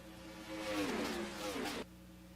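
Race cars in the NR2003 racing game at Texas roar past in a pack, engines rising and sweeping in pitch as they pass close, then cutting off abruptly, with faint commentary underneath.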